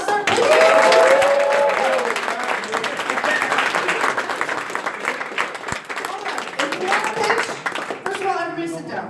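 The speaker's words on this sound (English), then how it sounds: "And now we clap and we get very excited" Startup-weekend crowd in Geneva claps and cheers at an opening ceremony, a rolling wash of applause with whoops and excited voices, loudest at the start and continuing under chatter.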